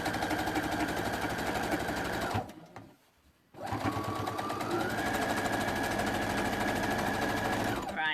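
A sewing machine stitches a zip into a tabbed cushion. It hums steadily up close, stops briefly for about a second, then runs on at full speed to the end.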